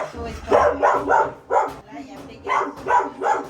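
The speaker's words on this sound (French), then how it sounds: "C'est les chiens de l'association." Dogs at an animal association bark in a series of sharp, evenly spaced calls, loud and close, with people talking nearby.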